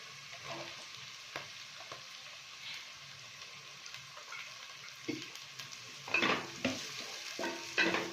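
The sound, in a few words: chicken pieces frying in pan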